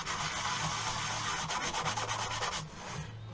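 A sand-cast silver jewelry piece is rubbed back and forth on sandpaper to flatten high spots, a close, continuous gritty scraping with a quick rhythmic stroke that eases off near the end.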